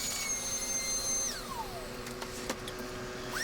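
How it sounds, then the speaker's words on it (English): A steady motorized whine with a falling pitch sweep partway through, broadband hum running continuously and fairly close, no voices. "I had to replug the vacuum in there"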